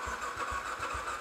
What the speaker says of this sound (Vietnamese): Thì xem cái nổ máy của con này,